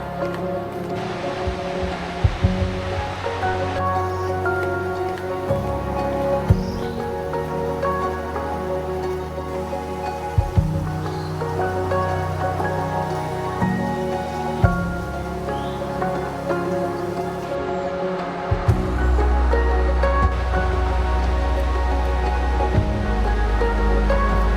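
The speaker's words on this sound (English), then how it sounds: "Laxapana Waterfall is the 8th highest waterfall in Sri Lanka." Rushing water at Laxapana Waterfall in Sri Lanka, a continuous broad roar with shifting intensity and occasional low thumps, steady throughout.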